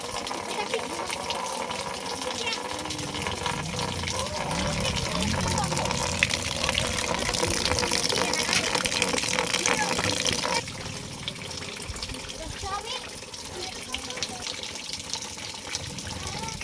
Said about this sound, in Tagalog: ulan na gyud kusog na gyud